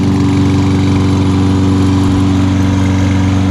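A lawnmower engine runs steadily and close by, a loud continuous droning hum with a fast regular putter and no talk.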